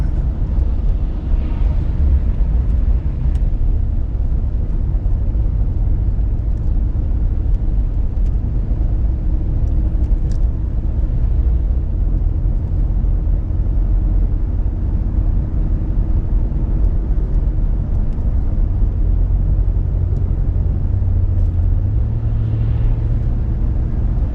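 A car driving along a road on a snowy day in Maine, a steady loud low rumble of engine and tire noise heard from inside, unbroken throughout with no talking.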